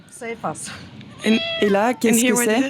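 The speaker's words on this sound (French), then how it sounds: "C'est notre chat." Several loud, drawn-out meows from a pet cat in an underground metro shelter, close up, rising and falling in pitch, with a person speaking briefly before the calls.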